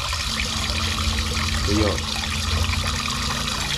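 Water streams steadily from a car wash sprayer, a continuous close hiss and splash running throughout, with a brief gurgling burst midway and a voice speaking over it.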